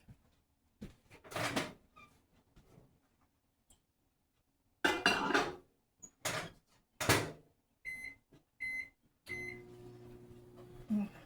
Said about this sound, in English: So I'm going to put a 1/2 cup of water into my microwave.